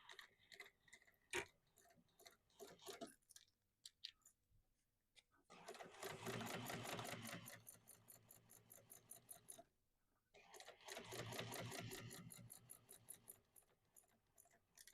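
A sewing machine top stitches through a bag's exterior and lining, with two runs of rapid, even mechanical stitching separated by quieter clicks and handling noises, faint and close.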